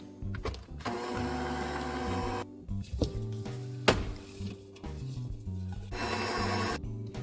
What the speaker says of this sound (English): Now I'm going to add half of my dry ingredients to my wet ingredients